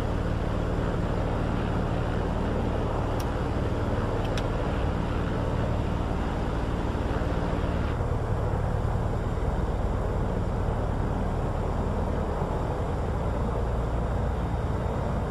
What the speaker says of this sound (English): we'll switch the engine mode selector to ignition and start engine 2